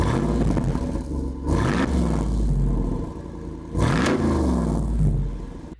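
A 2025 Jeep Wrangler 392 engine revs hard twice while pulling away onto the road, each surge rising loudly over a deep, steady rumble, with no talking.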